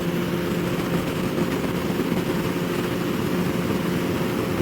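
A Kawasaki Ninja ZX14R engine pulls steadily in sixth gear at speed, a loud continuous drone mixed with broadband wind roar and no pauses.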